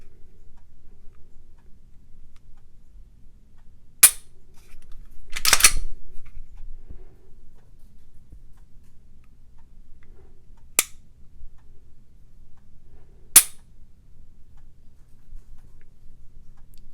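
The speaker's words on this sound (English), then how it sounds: "this is as close to a 1911 trigger that I've felt on a polymer pistol, a striker-fired polymer pistol" Dry-fire trigger clicks from a Glock Gen5 polymer striker-fired pistol fitted with a Timney trigger: four sharp, isolated clicks spaced seconds apart in a quiet room, with a faint rustle of handling between them.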